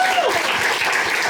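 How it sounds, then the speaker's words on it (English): A screening-day audience applauds steadily in a continuous wash of clapping, fairly loud and even throughout, with a faint voice briefly audible over it. "let's have a round of applause for that"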